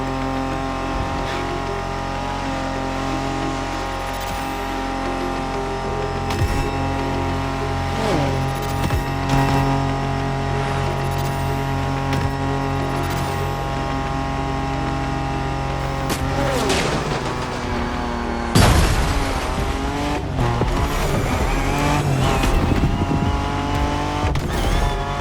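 A Peugeot 3008 DKR maxi buggy races in The Crew Motorfest, its engine droning and shifting pitch steadily, then revving and roaring harder toward the end, with occasional thumps.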